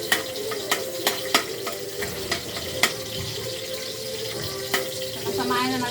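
Garlic and ginger sautéing in a pan, a steady sizzle broken by sharp utensil clacks and stirring scrapes, with water running faintly behind.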